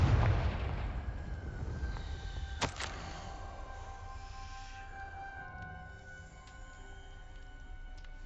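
A Confringo fire spell blast in a Hogwarts wizarding video game lands as a deep booming explosion at the start, followed by sharp magical cracks and a ringing, fading tail with sustained tonal hum.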